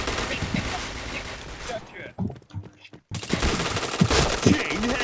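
Rapid bursts of automatic gunfire from a shooter video game, loud and dense, broken by a brief lull of isolated shots and game sounds before the firing resumes at full intensity.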